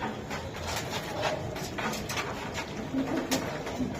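A female Budapest pigeon coos softly in a few low, repeated calls over a steady background hum and rustling.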